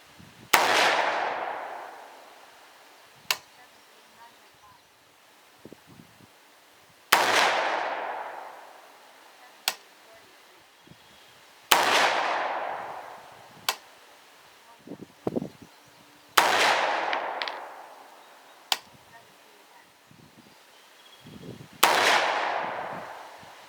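Shots from a 300 Blackout rifle firing cast Lee 312-155-2R bullets over IMR 4227 powder, five or six sharp loud reports spaced a few seconds apart, each trailing into a long decaying echo, with small clicks and handling noises between.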